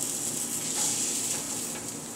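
Tortillas lightly sprayed with oil fry in a hot pan for chicken enchiladas, giving a steady, close, even sizzle and hiss for a couple of seconds with no talking.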